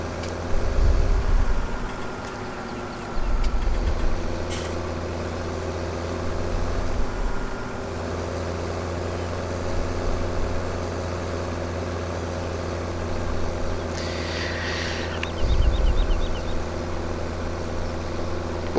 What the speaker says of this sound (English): pretty good incline here if my tractor is bogging down here